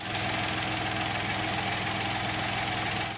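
A Toyota Yaris with a 1-litre three-cylinder 1KR-FE engine runs at a steady idle, a smooth continuous hum with faint vibration, close and alone.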